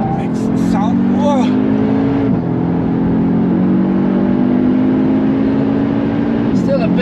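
A 528 hp Audi S3 on the Nürburgring with a loud, steady engine drone that shifts pitch as it changes gear, heard from inside the car, with a few brief voices over it.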